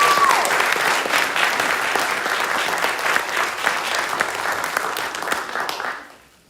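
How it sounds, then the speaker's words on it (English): Audience at a college staff and instructor of the year awards ceremony gives a loud, sustained round of applause that fades out at the end. "So let's have another round of applause for our awardees"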